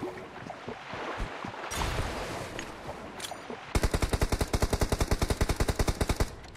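Sustained automatic gunfire rattles out in a squad shooter game, a rapid, evenly spaced burst of loud shots following several seconds of scattered, muffled combat noise.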